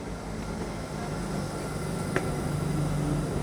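Inside a train travelling from Durham to London, a steady low rumble and hiss of motion runs throughout, with one brief faint clink near the middle and no voices.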